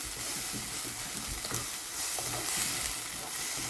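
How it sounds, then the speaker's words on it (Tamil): Ginger and garlic sauté in hot oil in a pan over golden-browned onions, giving a continuous close sizzling hiss with light stirring scrapes and no talk. "இப்போ நான் இஞ்சி பூண்டு ஆட் பண்ணுறேன். இப்போ பச்சை வாசனை மட்டும் 1 நிமிஷம் வதங்க விடுவோம்."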